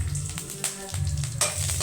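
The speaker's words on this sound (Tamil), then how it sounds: "கடுகு பொரிஞ்சிருச்சு." Mustard seeds crackle and pop in hot oil for tempering dal, with quick bursts of spluttering over a steady sizzle.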